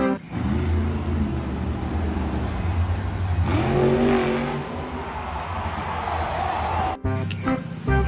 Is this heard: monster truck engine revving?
yes